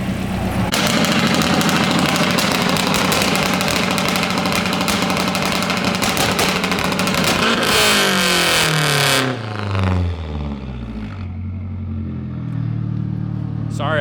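Mazdaspeed 3 engine holding a loud, sustained two-step launch-control rev for several seconds, then falling away in a sweeping drop before briefly rising again.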